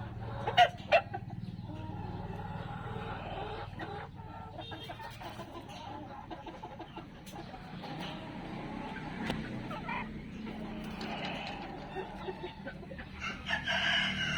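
An American Peru fighting rooster gives a couple of short crows and clucks at moderate distance, with quiet outdoor background noise between them.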